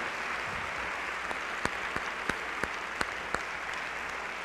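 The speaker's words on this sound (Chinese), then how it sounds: "给我们最热烈的鼓掌。" A church congregation applauds warmly for young people and children who have just sung, a steady wash of clapping from many hands with a few sharper, closer claps standing out.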